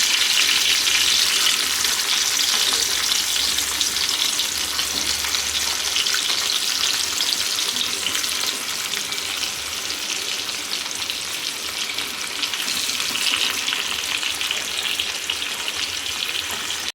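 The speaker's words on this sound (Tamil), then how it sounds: "மீன் வந்து அப்படியே ஃப்ரை ஆகிட்டுருக்கு." Fish sizzles and crackles steadily in hot oil in a pan, frying for a Tamil-style fish curry (meen kulambu), a dense continuous hiss close up with no talking.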